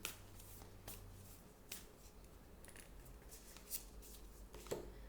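Moonology oracle cards shuffled by hand before one is drawn, faint close riffling and flicking of card edges with a few soft taps, quiet throughout.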